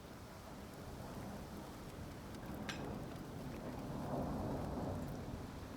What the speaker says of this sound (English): The thunder seemed to have a vengeance. The rain just wouldn't go away.